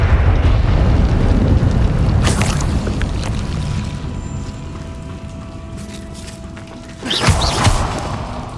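Bombarda explosion spells blasting in the Hogwarts Legacy video game: two loud booming bursts, one near the start and a sharper one near the end, over a constant rumbling battle din.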